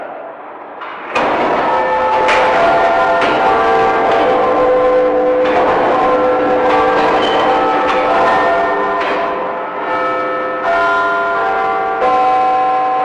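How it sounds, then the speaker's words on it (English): Large clock bells ring out the Westminster chime on the quarter train, each strike clear and resonant with long ringing tails overlapping, loud and close, sounding one after another. "here we have the quarter train, which strikes the Westminster chime that we all know and love so well"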